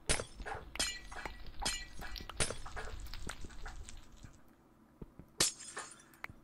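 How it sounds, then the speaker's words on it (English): Glowstone blocks broken in Minecraft on Nintendo Switch give a series of sharp glass-like shattering crashes, about a dozen in quick irregular succession, each with a bright tinkling decay, fairly close and clear with no talking. "sounds like breaking glass"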